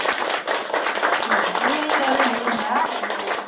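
Lecture audience applauds after a special talk, steady clapping running throughout with voices speaking over it.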